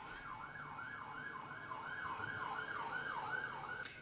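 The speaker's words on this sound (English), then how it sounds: "Sorry, there's a siren." A wailing siren rises and falls in a steady repeating sweep, moderately distant, over a low background hum.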